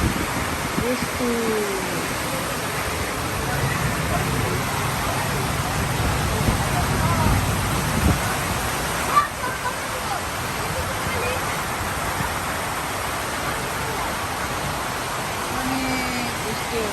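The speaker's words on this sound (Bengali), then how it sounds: "অনেক বৃষ্টি হচ্ছে দেখেন।" Heavy rain falls in a constant broadband roar that stays loud and steady throughout, with only a single brief knock partway through.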